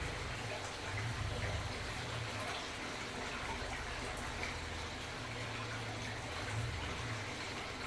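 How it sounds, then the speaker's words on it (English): Dirt and water rush steadily down a gold prospecting sluice with a ribbed mat in Colorado, making a continuous close, even gushing wash with no breaks. "throwing dirt down a sluice"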